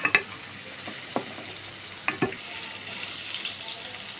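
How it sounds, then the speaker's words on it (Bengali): Pointed gourds fry quietly in oil, a faint steady sizzle under a few sharp clinks and taps of a utensil against the pan, with no talking. "এবং ওই তেলে আমি পটলগুলোকেও ভেজে নেব।"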